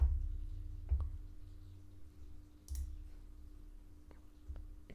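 A handful of quiet, sharp mouse clicks land one at a time against a faint, near-silent room background, spaced irregularly as a website sign-up button is clicked.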